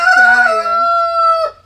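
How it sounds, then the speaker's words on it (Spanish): A rooster crows once, loud and close, a long held tonal call that breaks off sharply at the end. "gallito tiene ganas de cantar"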